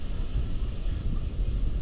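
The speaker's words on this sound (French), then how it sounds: "il y a énormément de vent dans les courants, il y a les courants d'air de taré" Strong wind buffeting a microphone at an amusement park coaster area, a steady loud roaring rumble with constant low gusting and no clear breaks, nobody speaking.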